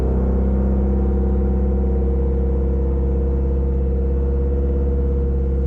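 Subaru WRX STi engine idling steadily with a low, continuous rumble and a fixed drone, loud and close, no voices over it.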